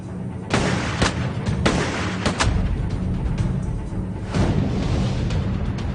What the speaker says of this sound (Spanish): la lámina de metacrilato que protege la esfera de los disparos de escopeta